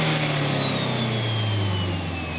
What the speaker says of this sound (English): The turbo on this thing is so freaking loud.